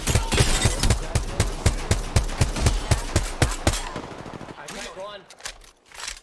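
Rapid automatic gunfire in an online shooter game, a loud, evenly spaced burst of shots for about four seconds that then stops, leaving scattered softer clatter and a voice talking over it.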